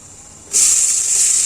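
Fennel seeds dropped into hot oil in a pressure cooker give a sudden loud, bright hiss that starts abruptly and holds steady, close up with no talking.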